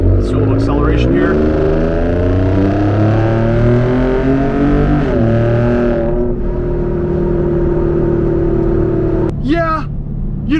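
A Ford F-150 Raptor with a bi-turbo V6 accelerates, heard from inside the cab as a steadily rising engine drone through upshifts, settling into a steady cruise; a voice speaks briefly near the end.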